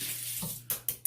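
A razor rinsed under a running bathroom tap while trimming a beard line: water hisses steadily out of the faucet, then a few brief splashy taps follow as the blade is knocked under the stream.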